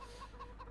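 Chickens cluck in Farming Simulator 17, with a few short, soft clucks spaced evenly over a steady low background hum.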